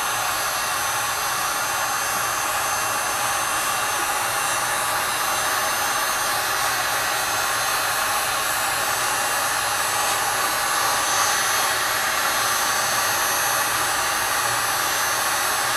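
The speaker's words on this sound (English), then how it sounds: "We can do that with a heat gun." A heat gun runs on iPhone back glass, giving a constant, loud blowing whoosh that holds steady for the whole stretch with no pauses or talking.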